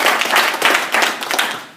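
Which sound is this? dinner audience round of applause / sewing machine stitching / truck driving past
dinner audience round of applause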